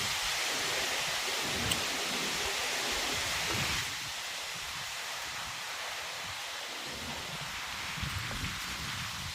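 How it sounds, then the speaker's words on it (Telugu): Rain driven by wind pours down outdoors around a village with coconut trees, a continuous broad hiss that is stronger for the first few seconds, then settles to a slightly softer steady downpour with faint gusts. "మళ్ళీ గాలి దుమ్ము వాన"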